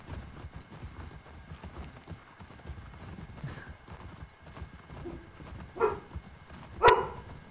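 Horse hooves clip-clop in the video game The Last of Us Part II, a soft, steady rhythm of hoofbeats close by, with a couple of louder thuds and a brief whinny-like sound near the end.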